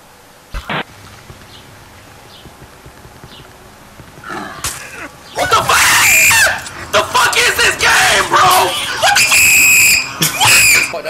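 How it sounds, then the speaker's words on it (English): A person lets out loud, prolonged screams in bursts after a quieter stretch, with shouting and frantic voices mixed in. "Man, how you scream like that?"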